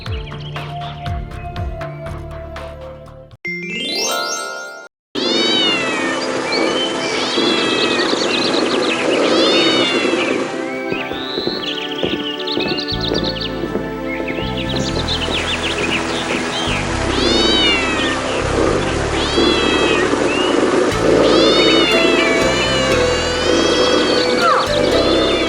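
A cartoon cat meows loudly and repeatedly in a children's bedtime story, its drawn-out cries rising and falling over a continuous music bed.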